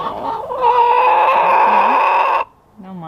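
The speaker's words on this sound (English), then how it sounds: "This is Daenerys, the boss hen." A hen clucks loudly and continuously up close in a coop, a busy run of chatter that stops abruptly, then resumes with softer, lower clucks.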